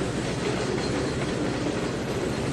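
Diesel locomotives move along a track in the railway simulator game Trainz 2019, giving a steady, dense rumble of rolling rail noise with faint clickety-clack. It is loud and continuous, with no talking.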